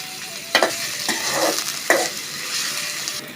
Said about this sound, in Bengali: পেঁয়াজ কুচি দিয়ে দিলাম, একটু নাড়ে নিতে হবে, একদম লাল লাল করে ভেজে নিতে হবে।